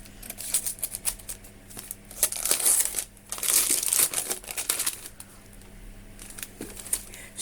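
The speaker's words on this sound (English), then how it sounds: "here is our book and here are our scissors. Let's get opening" A wrapped mystery book being opened with scissors, giving close crinkling and tearing of paper in irregular bursts, louder in the middle, against a quiet room with a low steady hum.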